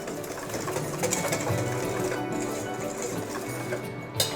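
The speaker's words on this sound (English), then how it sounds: "we'll just give it a little bit of a whisk" Self-raising flour, baking powder and salt being whisked in a mixing bowl give a steady, rapid scratchy rustle with faint clicking, continuous and close throughout.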